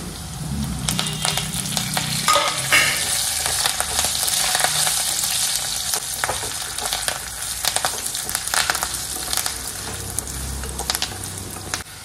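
Garlic and cumin paste fries loudly in a pan with curry leaves, a dense continuous sizzle with occasional stirring scrapes, close and without talk.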